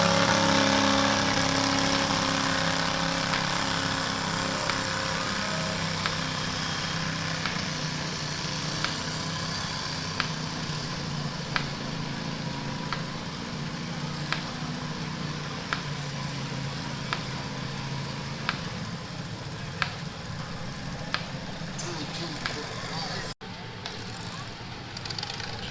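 Race tractor engines idle at the Ashtabula power show, a steady loud rumbling drone with a faint regular ticking running through it, continuous for the whole stretch before a brief dip near the end.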